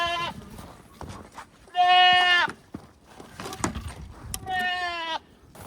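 Goats on a farm in Canada bleat loudly nearby, two long wavering calls separated by shuffling and knocking sounds.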